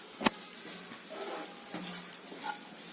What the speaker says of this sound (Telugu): onions వేగినాయి friends